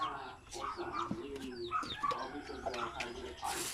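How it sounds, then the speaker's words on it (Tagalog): Several chickens calling around a yard, with clucks and coos overlapping at moderate distance and a steady outdoor background. "akong alaga nga manok"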